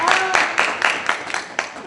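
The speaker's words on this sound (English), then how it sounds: "Everybody give JC a round of applause" A small audience gives a short round of applause, with scattered, fairly close claps for a couple of seconds and a voice speaking over them.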